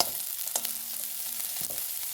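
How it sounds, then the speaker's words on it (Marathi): Chopped onion and garlic frying in a kadhai over a gas flame for gobi manchurian gravy, a steady close sizzle with a couple of brief stirring scrapes and no talk. "आम्ही त्यात लसूण कांदा कढई गॅसवर ठेवली आहे आणि कांदा लसूण टाकला आहे"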